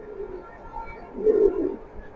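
Racing pigeons kept in pairs give a low, soft coo close by, one rolling call swelling near the middle of a short quiet stretch.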